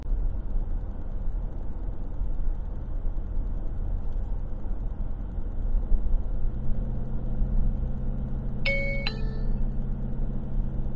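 Inside a 2021 Toyota Kluger Grande Hybrid, a short ding-dong style school zone alert chime sounds once near the end over constant road and engine rumble.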